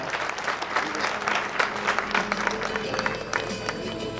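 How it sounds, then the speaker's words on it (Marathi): An audience at a bank's centenary celebration applauds a guitarist, a dense, sustained burst of many hands clapping at close range, with a few scattered voices underneath. "प्लीज जोरदार टाळ्या एकदा"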